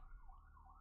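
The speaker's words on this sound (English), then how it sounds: "If you can hear the sirens outside" A wailing emergency vehicle siren outside rises and falls in pitch, faint and distant, heard through a low background hum with no voices.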